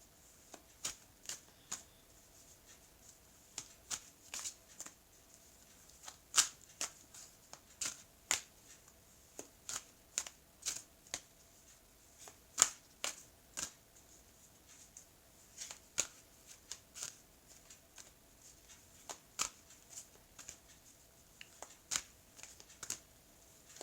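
Oracle cards being handled and shuffled for a tarot-style reading, intermittent crisp riffling snaps and slaps scattered irregularly over about twenty seconds, close and fairly quiet.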